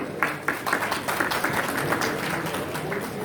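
Audience applause at a tax bar association's annual dinner, a dense steady patter of many hands clapping throughout, fairly close and with a murmur of voices mixed in.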